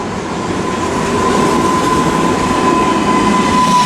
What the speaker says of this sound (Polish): to jest dokładnie ten pociąg